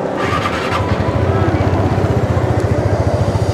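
A TVS Ntorq 125 Race XP scooter engine starts and settles into a steady, close, low and rounded idle from its standard exhaust, with a fast even pulse throughout.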